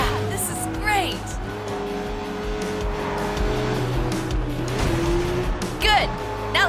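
A car in the video game Sleeping Dogs drives fast with a steady engine roar, and tires squeal and swoop now and then as it swerves through traffic, the sound continuous and close throughout.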